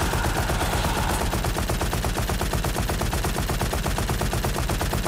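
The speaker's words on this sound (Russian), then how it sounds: "Machine Gun. Вот это уже пулемет какой-то." Rapid, continuous machine-gun fire from a DOOM weapon mod in Garry's Mod, dense evenly spaced shots hammering for the whole stretch, loud and close with no voices.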